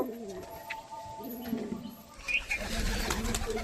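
Pigeons let out loose outdoors coo in soft, rolling phrases, several calls overlapping at moderate distance with light chirps and background rustle.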